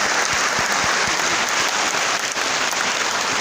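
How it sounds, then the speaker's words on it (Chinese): A choir's audience at a thanksgiving gathering in Taichung applauds warmly, steady dense clapping filling the hall throughout with a few sharper close claps standing out. "再一次给他们热烈掌声。"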